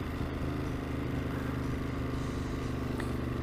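A 2021 Ducati Monster engine hums steadily at low revs while riding through town, a continuous throbbing drone with smooth throttle and no talk over it.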